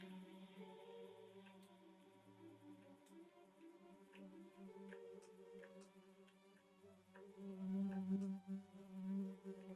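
Bees buzzing as a video game sound effect, a droning, wavering hum that swells and fades as if circling close, growing louder toward the end, no talking.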